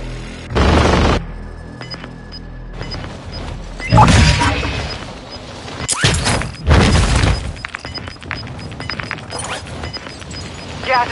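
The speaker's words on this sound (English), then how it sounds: "Artillery deployment." Heavy artillery explosions in a battle royale game, several loud booming blasts spaced a few seconds apart, each with a sharp crack and rumbling tail, over steady background noise and a faint announcer voice.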